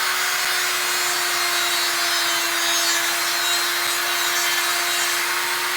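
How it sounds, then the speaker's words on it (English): A Dremel rotary tool fitted with a sanding bit grinds along the edges of plexiglass, a steady high-pitched whine with a constant abrasive hiss held for several seconds, with no talking. "I've decided to use the Dremel tool with the sanding bit."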